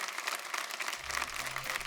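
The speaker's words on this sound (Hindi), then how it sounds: "जोरदार तालियां हो जाएं" A studio audience on a business game show bursts into applause, a dense wash of clapping throughout with a low hum entering partway through.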